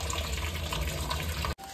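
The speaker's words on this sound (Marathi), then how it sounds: "लगेच थंड पाणी टाकायचं" Chilled water from the fridge is poured over freshly drained cooked rice, a steady close splashing stream that runs without pause and then cuts off abruptly near the end.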